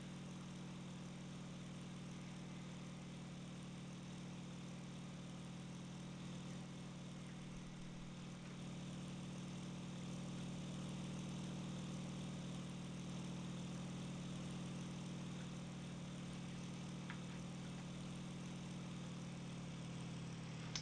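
The F4U Corsair engine in the combat flight game IL-2 drones steadily and faintly, a constant low mechanical hum with no break or change throughout.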